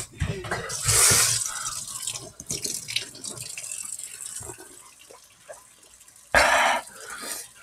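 Water runs from a household tap in two short, loud hissing bursts, with quieter clatter, handling noises and light breathing between them.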